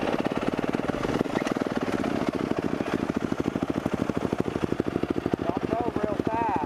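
A KTM 350 motorcycle engine revs hard through a wheelie, a loud, close, steady rapid-pulsing roar that holds without letup.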